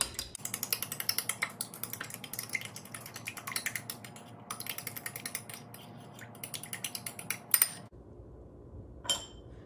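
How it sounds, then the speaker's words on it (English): A spoon whisks an egg with almond milk in a bowl for a gluten-free blooming onion batter, giving a quick, steady run of light clinks and taps that briefly stops, then returns with a couple of softer knocks. "I'll just use this spoon to mix that together."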